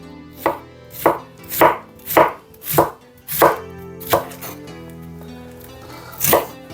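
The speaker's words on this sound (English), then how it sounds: "First cabbage half, after cut like that, and start cutting" A knife chops through half a cabbage on a cutting board, cutting it into strips with about nine crisp, evenly spaced strokes that are close and fairly loud, with no talking.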